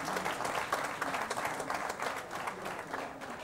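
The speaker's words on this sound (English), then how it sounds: "a hand of applause" Sustained audience applause at a literary festival session, a dense, steady wash of many hands clapping that stays loud and even throughout with no speech over it.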